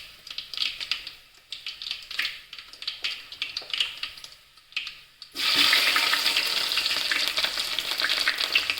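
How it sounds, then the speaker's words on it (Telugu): Chopped onion and green chillies frying in a pan, first as soft intermittent crackling and stirring, then a sudden louder, dense sizzle as more goes in, close and without talk. "ఉల్లిగడ్డ కోసుకున్నాం వేసుకున్నాం పచ్చిమిర్చి వేసుకుంటున్నాం"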